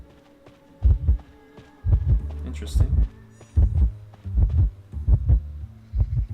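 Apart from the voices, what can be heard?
heartbeat warning sound from the video game Identity V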